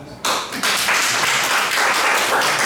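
An audience at a leadership lecture breaks into applause, a dense wash of clapping that comes in loud and stays steady for a couple of seconds, following a short sound at the start.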